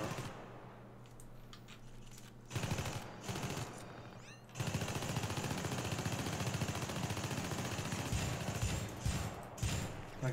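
Continuous automatic gunfire from the video game Syndicate, sustained rapid bursts that grow louder and denser after the first few seconds, keeping up an unbroken loud clatter with no voices over it.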